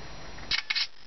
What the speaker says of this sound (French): Et on prend une photo.